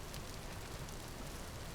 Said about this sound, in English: now it finally rains, and when it does, it rains for 2 days solid